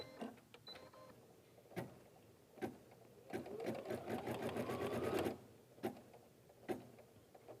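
An embroidery machine stitching a placement line for a lining fabric on an in-the-hoop gift bag, with a rapid mechanical whirring burst in the middle between scattered clicks and thumps of handling.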